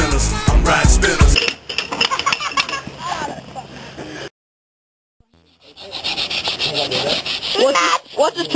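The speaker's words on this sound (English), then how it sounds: "What's the sandpaper rubbing doing?" Sandpaper rubbing across skateboard grip tape, a loud, close, continuous scratchy scraping in strokes, with a brief silent gap midway and voices mixed in.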